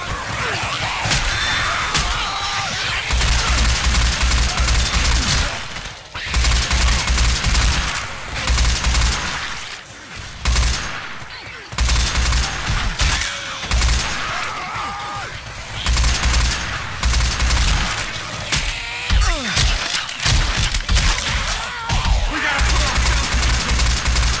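Heavy gunfire in the zombie shooter Left 4 Dead 2, loud rapid bursts and volleys recurring in clusters with brief pauses, plus impacts and crashes from close range.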